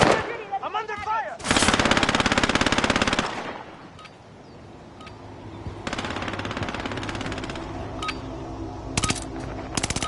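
Automatic weapons fire during a video game firefight: long sustained bursts of rapid, loud shots with short gaps between them, later turning into scattered single cracks, plus brief voice-like sounds near the start.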